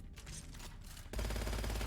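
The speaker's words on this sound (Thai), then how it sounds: "ปืนที่ยิงอ่ะยิงเป็นแนวนอนนี่ อ่าปืนระเบิดบอมอ่ะ" Grenade launcher fire in the shooter game Gunfire Reborn: a dense, rapid run of shots, then a louder, heavier continuous booming barrage in the second half, with no talk.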